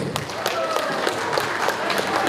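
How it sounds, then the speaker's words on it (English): Applause for the drummers at a wedding reception and haircutting celebration, a continuous mid-level patter of clapping from the guests with a few sharper individual claps and some voices mixed in. "Give them a round of applause."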